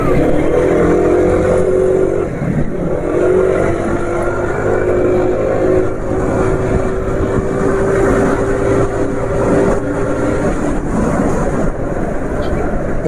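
A vehicle running on Trust Miracle 831 10W40 engine oil creeps along very slowly, its engine humming steadily with slight pitch shifts, heard close and continuous beneath a speaking voice.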